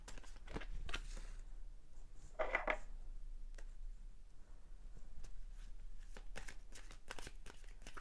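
Tarot cards are shuffled and drawn for a reading, giving a brief soft riffle followed by scattered light flicks and taps of cards being handled close by in a quiet room.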